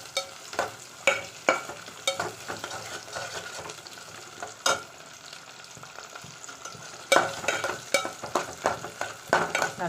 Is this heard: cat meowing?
no